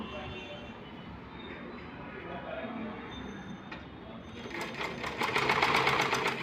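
Sewing machine stitching a blouse, a continuous mechanical whirr that speeds up into a louder, rapid rhythmic clatter toward the end, close by, with a faint voice in the background.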